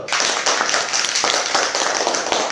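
Students applaud together in a classroom during a lesson on colours, a loud, dense and sustained wash of clapping hands close by.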